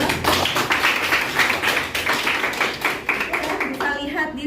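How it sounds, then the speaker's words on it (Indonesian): Students in a classroom clap together for a classmate who answered, a dense run of hand claps with chatter and voices mixed in underneath. "Tepuk tangan buat teman yang jawab."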